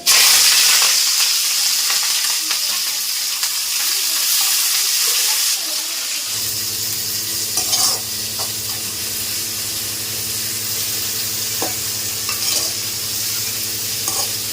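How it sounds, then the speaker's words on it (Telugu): Onions, green chillies and curry leaves fry in a pan for fish curry, opening with loud, dense sizzling, then settling into a softer, steady crackle with occasional stirring scrapes and a constant low hum. "మనకి ఉల్లిపాయలు అయితే బాగా ఫ్రై అయినాయి కదా"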